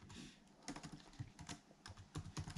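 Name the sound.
typing on a computer keyboard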